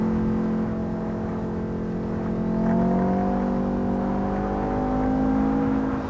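A racing car engine in the Assetto Corsa driving game holds a smooth, steady drone, its pitch rising gently as it pulls through a gear change, loud and close with no talk.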